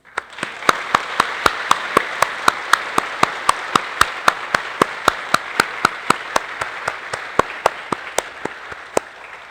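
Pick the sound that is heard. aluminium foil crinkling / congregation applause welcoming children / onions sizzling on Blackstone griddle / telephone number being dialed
congregation applause welcoming children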